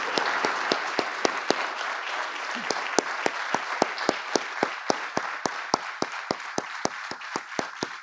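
An audience applauds at an event honoring military families as the First Lady of the United States, Dr. Jill Biden, is introduced. Steady clapping fills the whole stretch, with a few sharper claps standing out near the microphone.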